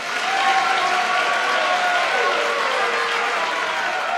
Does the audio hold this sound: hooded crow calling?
no